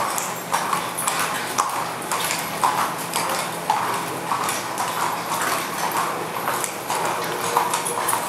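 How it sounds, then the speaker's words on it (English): Racehorses clop on hard ground in the busy stall area of a harness raceway while trainers lead them in. The hoofbeats come in a steady, repeated clatter with ringing metallic pings over a constant hum of background noise. "As soon as the race goes out, trainers bring their horses in and take those stall places."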